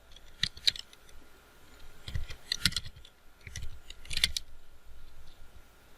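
Keys on a computer keyboard clack close by in short, sharp clusters separated by quiet pauses while someone works in Excel 2016, with no speech.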